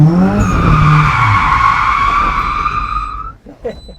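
A car drifts for the first time with the handbrake, tires squealing in a long, loud continuous skid close by over engine roar, then cutting off abruptly into quieter noise.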